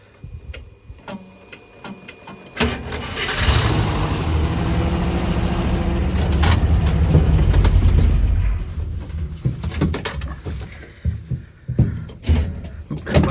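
An International Scout II under restoration cranks and sputters as it tries to start, a loud sustained engine churn for several seconds that dies away into scattered mechanical clanks and ticks, close up with no talking.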